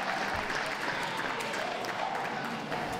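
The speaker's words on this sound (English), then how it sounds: "A round of applause for those leaving the ring, please" An audience applauds terriers leaving the ring at a championship dog show, steady crowded clapping that holds loud and continuous throughout, with a faint murmur underneath.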